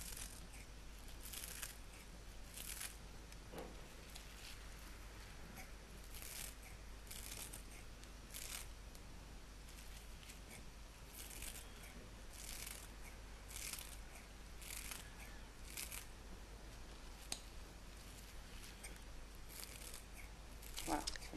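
Chives being snipped into small pieces for a goat cheese pie, a steady run of crisp, rapid cutting sounds close by against a constant low background hum.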